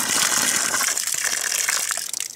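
Water gushes hard from a thawed, previously frozen outdoor hydrant, a loud, continuous splashing rush that runs unbroken and close by, with no talking.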